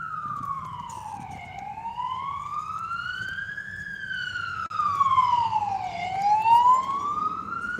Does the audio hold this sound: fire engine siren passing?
yes